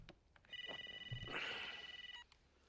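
A telephone rings in rapid trilling bursts, fairly quiet and slightly distant, with a low thump and faint background sounds around it.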